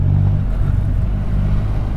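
Triumph Rocket 3 GT motorcycle engine pulls in second gear at about 2,000 revs, a deep, close rumbling drone with slight throttle pulsing, heard alone.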